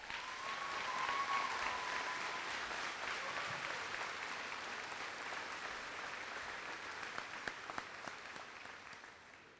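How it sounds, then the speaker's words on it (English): A crowd at the Ogemaw Heights High School Class of 2018 graduation applauds the parents, a broad, fairly distant clapping that swells early, then gradually thins to scattered individual claps. "Let's give a round of applause to our parents."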